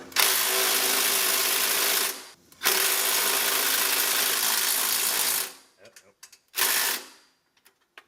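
A hand ratchet with a 14 mm socket and swivel head clicks in rapid bursts while working on a 2018 Subaru Forester catalytic converter, with two long runs followed by short broken strokes.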